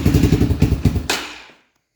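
Three-wheeler engine chugging in a steady, close, loud rhythm for about a second, then cutting off and fading to silence.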